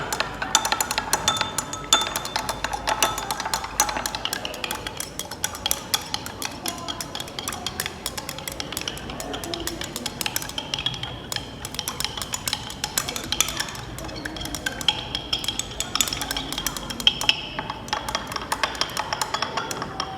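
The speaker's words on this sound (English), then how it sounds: "Let's stir it." A spoon stirs solute into a solution in a glass during a saturated-solution demonstration, giving a steady run of light clinks and scraping against the glass that continues for about twenty seconds with no talking.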